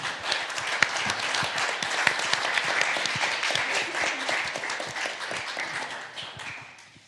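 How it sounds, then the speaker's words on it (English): A conference audience applauds a panel's participants: sustained, lively clapping from a roomful of people that stays strong, then tapers off near the end. "Applause to all the participants of the panel"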